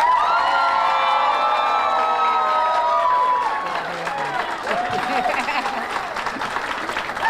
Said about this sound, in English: I want to introduce now and ask you to join me in giving a tremendous and rousing applause and appreciation to Tara Samples.